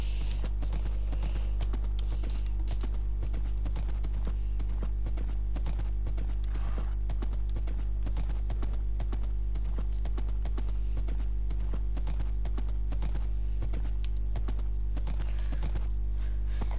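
Rapid, steady clip-clop of hooves as a horse gallops continuously in a video game, with a faint snort and a low constant hum beneath.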